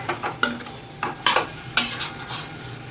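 Paneer and chopped coriander stirred fast in a pan over high flame, a spatula scraping and clinking against the metal in several separate bursts over a faint sizzle.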